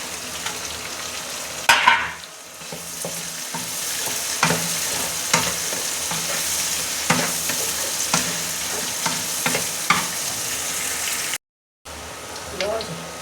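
Continuous sizzling of onion, tomato and chilli frying in a pan for aloo gobi, with repeated scraping and stirring strokes, close and steady throughout.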